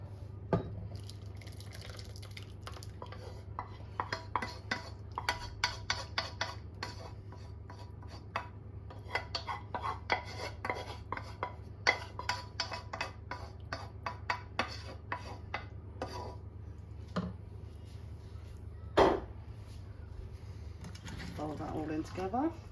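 Crispy chicken and sauce are folded together in a pan, giving scattered wet clicks, light scrapes and utensil taps over a low steady hum, with a faint voice in the background.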